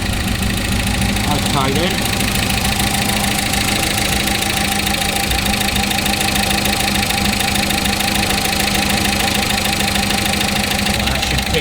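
1955 Austin Healey engine idling at about 750 rpm, a steady, close, knocking idle chugging evenly throughout while a voice speaks briefly over it.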